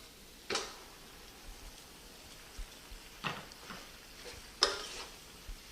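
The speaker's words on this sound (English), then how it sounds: "Just going to stir this all together." Cooked penne pasta being stirred into a creamy mushroom and pancetta sauce with cream cheese. A few soft wet scraping swishes come at spaced intervals over a quiet background.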